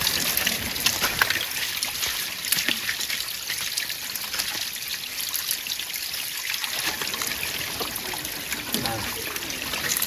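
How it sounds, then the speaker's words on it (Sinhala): Water trickles in a small forest stream at Kanneliya, a steady, close hiss of flowing water that continues throughout with no other clear sounds. "දිය පාර."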